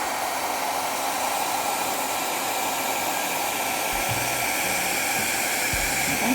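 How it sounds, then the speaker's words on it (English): A small 1000-watt blow dryer pushes fluid art paint in a continuous close, loud rushing whoosh that holds steady throughout, with faint low knocks near the end and no voices. "I now have a nice small blow dryer with 1000 watts, so better results hopefully."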